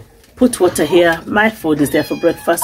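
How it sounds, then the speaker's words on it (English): A cat meows repeatedly near an outdoor firewood kitchen in a village, its short tonal calls mixed in with a person talking close by. "Look, that's the cat."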